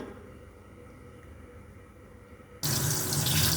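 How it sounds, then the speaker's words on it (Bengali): Water spinach greens washed under a running kitchen tap: a quiet room hum, then the tap suddenly gushes on into a loud, steady splashing stream near the microphone. "এরপরে অনেকক্ষণ পরিষ্কার পানি দিয়ে ভালো করে ধুয়ে নিলাম।"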